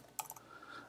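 A few quick, quiet keystrokes click on a computer keyboard in a short cluster, faint and close, with no voice over them.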